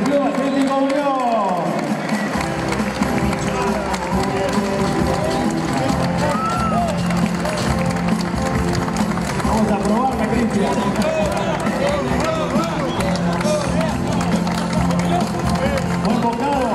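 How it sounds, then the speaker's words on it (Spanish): Crowd at the 70th anniversary celebration of Club Atlético Unión applauding continuously during the symbolic cake cutting, dense clapping mixed with music and chatter throughout. "Fuerte ese aplauso"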